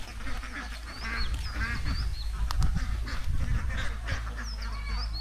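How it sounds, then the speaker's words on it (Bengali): A flock of village ducks in rural Bangladesh quacking repeatedly, several overlapping calls fairly close, with steady outdoor ambience and almost no talk. "হাঁস পালাইছে যে"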